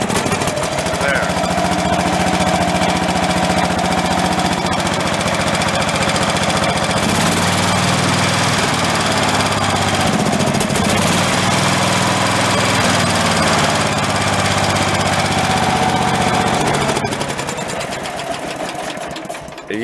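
A worn tractor engine runs steadily and loudly throughout, a rough continuous mechanical drone with a slight shift in tone partway through before trailing off at the end.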